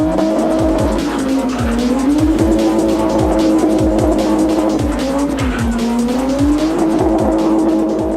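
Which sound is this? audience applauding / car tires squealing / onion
car tires squealing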